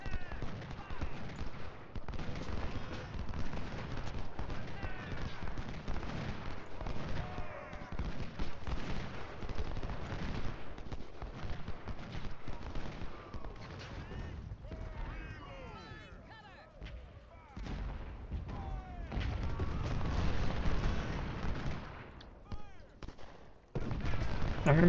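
Musket volleys and artillery fire from an Ultimate General: Civil War battle at Thoroughfare Gap form a dense, continuous crackle of distant gunfire with heavier booms mixed in, unbroken for the whole stretch.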